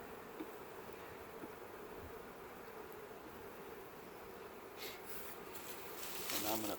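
Honey bees buzz steadily around an opened nucleus colony during an early spring hive check. The hum is continuous and fairly quiet, with a few brief rustling handling noises near the end.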